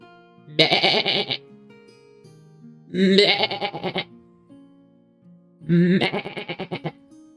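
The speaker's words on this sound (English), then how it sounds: "Sheep." Sheep bleat three times, each call loud, close and wavering, separated by short quiet gaps with faint background sound.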